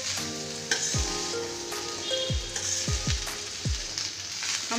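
Salt is stirred into a fried maize snack in a pan, a low steady sizzle under several scraping strokes of a spoon against the metal, close and fairly quiet.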